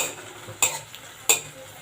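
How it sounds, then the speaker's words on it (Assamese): Tomatoes fry in a pan with a soft sizzle, broken by two sharp spatula scrapes and clatters while being stirred, close and without talk. "কেঁচা গোন্ধ নাজালৈকে ভাজিম"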